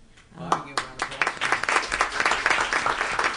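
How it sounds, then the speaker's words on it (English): An audience at a live city event breaks into loud, dense applause that builds quickly from a few claps into a sustained burst, with voices calling out underneath. "Give a round of applause"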